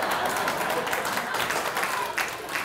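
Audience applauding at a magic show during a rope trick: dense, steady clapping that fills the whole stretch at an even, fairly loud level, with no break.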